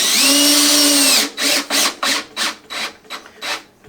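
A power drill drives a countersunk screw into an IKEA Rudsta cabinet, starting with one long steady whirring run and then breaking into about eight short bursts as the screw is pulsed home, close and fairly loud.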